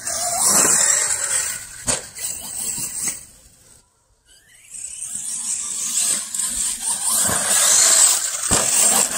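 An Arrma Mojave 6S BLX RC car drives and revs its motor up close with a loud, high whine. The whine drops out briefly midway, then surges back with mechanical rattles.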